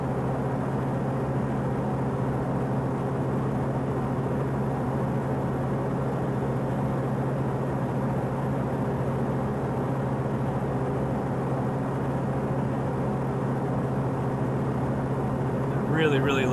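Pilatus PC-12 single turboprop engine in a flight simulator game, a constant, loud, even drone with a steady tonal hum that barely changes while the mixture is being leaned.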